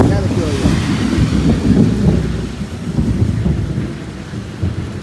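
Heavy rain pours down steadily with low rumbling thunder rolling underneath, loud and close, mixed with gusty wind noise on the microphone.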